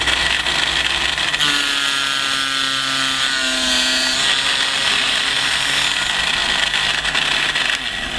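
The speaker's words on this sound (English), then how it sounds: "once we've drilled our master, it's simply a case of drilling all of the remaining pieces" A power drill boring through small pieces for model ship gun carriages held by hand without a jig, a loud close whine that rises in pitch as it spins up and then holds steady.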